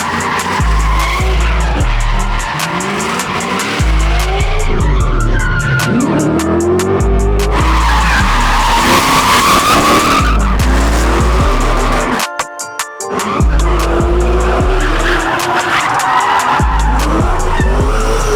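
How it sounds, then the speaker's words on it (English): Roughly 30 cars drifting around a tiny, tight drift track at Hoonigan during a private day, with loud continuous engine revving and repeated long tire squeals. The sound stays close and dense throughout, dipping briefly before roaring back. "Got about 30 drivers here from Drift Week, and they are here to drift the smallest track we could make, fast and good."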